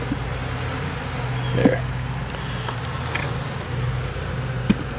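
Honeybees buzz steadily around an opened backyard hive, a dense insect hum with individual bees droning close past the microphone; a person speaks a single brief word.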